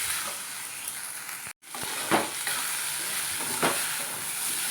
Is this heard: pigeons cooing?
no